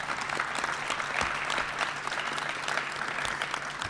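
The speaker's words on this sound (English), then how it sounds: "Let's give him another big round of applause." Steady, moderately faint applause from an audience at a high school athletic signing ceremony, a continuous even patter of many hands with no one talking over it.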